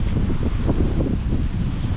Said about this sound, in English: That's why it's getting a little bit windy there.